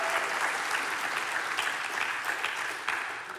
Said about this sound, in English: round of applause if you live in Mesa